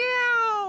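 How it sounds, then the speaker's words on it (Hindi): A single cat meows once, close and clear: a short, tonal cry that slowly falls in pitch, with nothing else audible. "ओ, बिल्ली है।"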